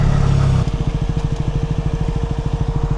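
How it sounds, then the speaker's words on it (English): A motorbike engine idles close by with a steady, rapid pulsing throb, a rougher louder note for the first half-second, then an even chugging rhythm. "It is my bike that's making a fucking noise."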